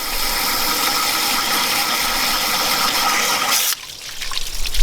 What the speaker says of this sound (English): as I spray water in there now,